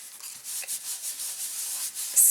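A harsh, scratchy rubbing of an acetate sheet against paper comes in short repeated strokes, close and fairly quiet, ending in a louder scrape.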